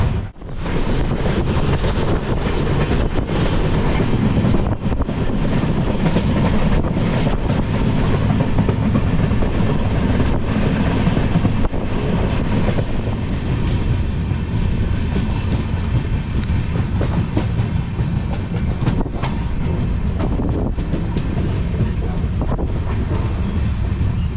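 A passenger train running between Tirunelveli and Tambaram pulls away from Rajapalayam station, a loud continuous rumble of wheels and carriages with rattling clatter and heavy wind buffeting from onboard.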